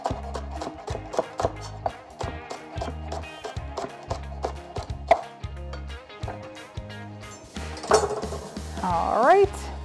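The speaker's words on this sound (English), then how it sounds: "we're going to add a green onion. I'm just gonna cut those tops off there." A knife chops green onion tops on a cutting board in a home kitchen, a steady series of close, sharp rhythmic taps, with a brief voice near the end.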